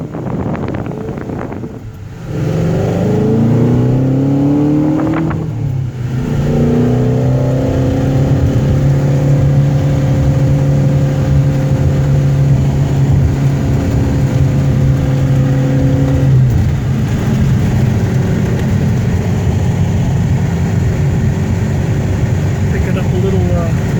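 A 2016 Ford Shelby GT350 accelerates and cruises down the road near 60 mph, with a loud engine drone that rises through the gears and then holds steady under road and wind noise. Someone speaks briefly at the start.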